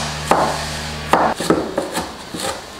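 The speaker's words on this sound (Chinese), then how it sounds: "蒜切片" A knife slices garlic on a cutting board in a home kitchen, about half a dozen crisp, irregularly spaced chops that land close and clear, with quiet scraping between them.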